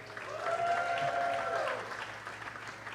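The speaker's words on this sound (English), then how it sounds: "it won't kill you to clap for my store" Audience clapping at an evening chamber of commerce awards program, a moderate wash of applause that swells and then thins out, with a faint tone and murmur of voices beneath.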